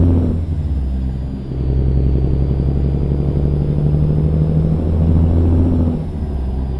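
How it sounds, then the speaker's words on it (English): Heavy truck engine in American Truck Simulator rumbles steadily and loudly at close range, a deep sustained drone with a slight swell in power partway through and no talking over it. "I love the sound of this truck."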